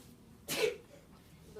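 One short, sharp sneeze bursts out in a quiet room, fairly soft and over in under half a second, with faint background hush before and after.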